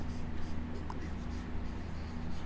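Pen writing out a trigonometry proof on paper, with soft, continuous scratchy strokes close by over a low background hum.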